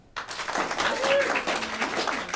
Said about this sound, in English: Now, clap your hands if this is your first time ever to the Hideout Theatre.